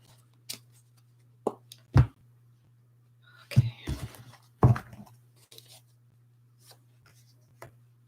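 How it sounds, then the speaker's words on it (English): Tarot cards being shuffled by hand, giving a few scattered soft riffles and rubbing bursts close up over a steady low hum, with quiet pauses between. "Just got my cards here. Give me just a moment as I'm shuffling."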